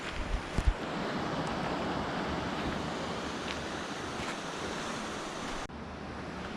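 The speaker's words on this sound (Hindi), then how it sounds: "बस गंगा जी की बहने की आवाज़ जैसे वो हमारे साथ साथ चल रही थी" The Ganges flowing along a mountain trail between Rishikesh and Devprayag, a steady, broadband rush of moving water with some wind buffeting the microphone, a few faint knocks at the start, continuous and fairly close, with no talking.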